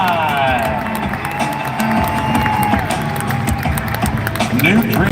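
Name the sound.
rodeo crowd applauding and cheering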